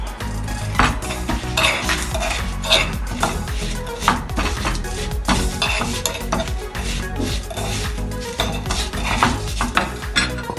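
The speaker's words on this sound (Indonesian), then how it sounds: "Ini tinggal diaduk saja." A spoon stirs a spice mixture of ground coriander and turmeric powder in a bowl, giving loud, steady clinks and scrapes against the bowl for about ten seconds with no talking.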